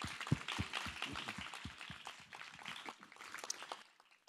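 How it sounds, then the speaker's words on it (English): Applause from a school-program audience for parents and guardians, a quiet, steady wash of many hands clapping at a distance, fading out near the end. "A round of applause for the parents and guardians"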